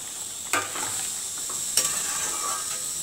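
Fried fish eggs added to a simmering curry sizzle steadily in the pan, with a couple of sharp clatters as they drop in and get stirred.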